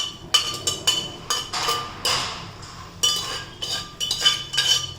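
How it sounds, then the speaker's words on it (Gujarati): Metal utensils clink and clatter sharply against a pan as ridge gourd goes in with soft cooked patra, a rapid irregular series of close, bright knocks and scrapes. "હવે એમાં આપણે નાખી દઈશું તુરિયા."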